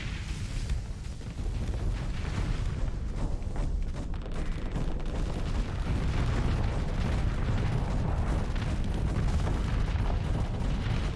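Rockets launched in a Starsector space battle, a dense continuous barrage of booming explosions and bursts rolling on without pause, loud and heavy throughout.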